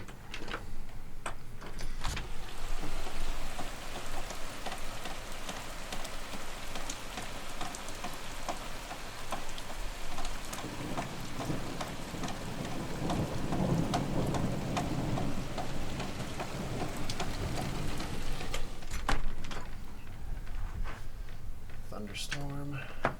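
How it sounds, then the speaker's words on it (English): Steady rain from a thunderstorm falls outside, a dense continuous patter with occasional louder knocks and drips close by, mixed with faint background hiss. "Thunderstorm,"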